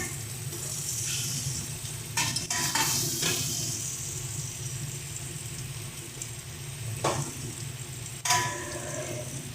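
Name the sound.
pre-fried paneer added and stirred in a sizzling pan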